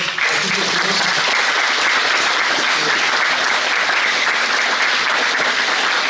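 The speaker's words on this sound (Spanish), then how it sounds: "un aplauso para el doctor" Sustained applause from a lecture audience at Chapingo fills the room steadily for several seconds, loud and dense, with a voice briefly audible at the start.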